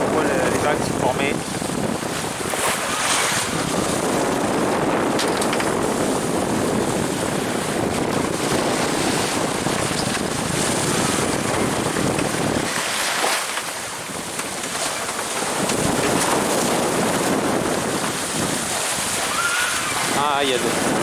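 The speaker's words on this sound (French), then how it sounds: "il y a beaucoup de clapots." Choppy waves slap and wash steadily around a sailboat off Sardinia in moderate wind under 15 knots, with constant loud wind buffeting the microphone throughout.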